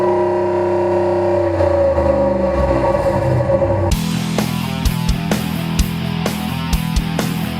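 A 2014 Ram 1500 pickup with a V8 drives along, its engine droning at a steady pitch. Partway through the sound cuts to a brighter cabin recording with intermittent knocks and clicks over the engine hum.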